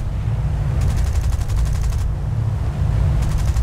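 Anti-aircraft flak firing in a War Thunder-style bomber game: a loud, steady rumble of bursts and crackle runs throughout, with rapid repeated popping in two stretches.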